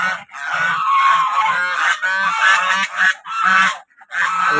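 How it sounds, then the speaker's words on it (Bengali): Domestic geese on a home duck and poultry farm honk loudly and close by, in a steady run of repeated calls with short pauses between them. "এই যে কত চায়না হাঁস পেটি হাঁস এরকম কত পেটি হাঁস ও রাজা হাঁস"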